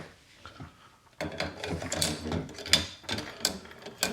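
Bolt of a Remington 700 rifle fitted with a Timney trigger slides back into the action with close, crisp metallic clicks, scrapes and ratcheting clacks after a quiet start.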